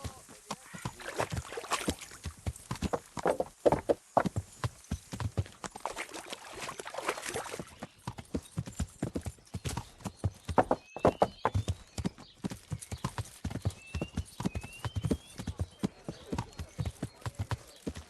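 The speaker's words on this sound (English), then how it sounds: "Learn how to ride a horse!" Steady clip-clop of horse hooves on a hard surface in Kingdom Come: Deliverance, with an occasional whinny and bits of talk mixed in over the rhythmic trotting.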